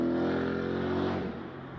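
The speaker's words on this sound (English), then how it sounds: "These cars sound funny." Car engines rev with a thin, buzzing, mosquito-like whine that holds steady, then drops off and fades.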